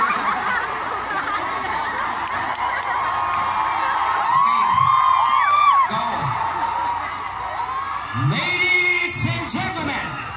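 A live audience at a comedy show in an Epson Lipa branch cheers, whoops and shouts with loose applause, a steady crowd roar that swells in bursts near the middle and end.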